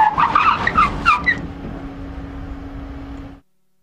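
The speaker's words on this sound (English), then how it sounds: "The MONROE car now completes the collision avoidance test at 80 km an hour" A Monroe-equipped car braking hard with ABS from 80 km/h in a collision avoidance test on a track, tires squealing and chattering in bursts before a steady drone fades out as the car comes to a stop.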